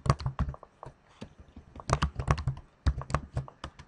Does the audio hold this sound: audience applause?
no